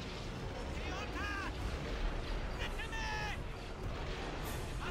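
Gunfire rattles in the Empire At War remake, a battle din of steady shooting and laser-like zips under continuous game noise, fairly distant and fainted by the mix.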